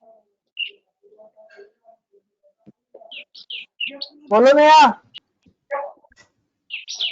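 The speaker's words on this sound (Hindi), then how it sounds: "अरे चिड़िया किसकी आ गई?" A small bird chirps nearby in short, scattered high tweets over a quiet room, while a person speaks briefly between the calls.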